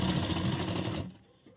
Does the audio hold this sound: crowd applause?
no